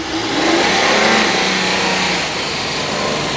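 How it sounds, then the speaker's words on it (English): A car accelerates to about 50 mph with the whole body shaking from a vibration fault, giving a loud, steady rising engine and road roar that swells then eases slightly, with no talk. "You're gonna see this whole car start shaking about 50."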